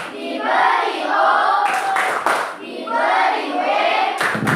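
A classroom of children chants together while clapping for the 'tepuk wow' cheer, sustained group voices broken by a few sharp bursts of claps, loud and close.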